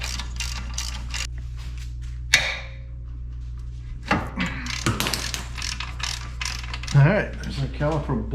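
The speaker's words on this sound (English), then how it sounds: "take the bolts out of the caliper bracket at the same time" Ratchet wrench loosening 21 mm caliper bracket bolts on a 2009 VW Jetta, giving quick bursts of close, rapid clicking separated by pauses and a sharp knock, over a low steady hum.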